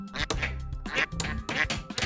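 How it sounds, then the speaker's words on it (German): Ducks quack in the video game Sneaky Sasquatch, a series of loud, nasal quacks in irregular bursts spread across the moment, close and clear without voices. "jetzt kommen die ganzen Enten hier raus"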